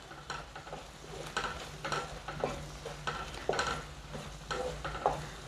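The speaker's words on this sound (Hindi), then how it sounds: "टमाटर से अभी तेल सेपरेट नहीं हुआ है, इसे कुछ देर तक और भूनते हैं।" Tomato masala for chana dal methi fries in oil while a spatula stirs it, producing a soft steady sizzle broken by regular scraping strokes roughly every half second, close but fairly quiet.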